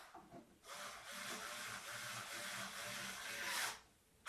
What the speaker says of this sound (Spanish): de momento voy a clavar un tornillo largo en esta parte